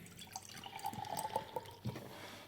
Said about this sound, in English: Just pouring it out of the can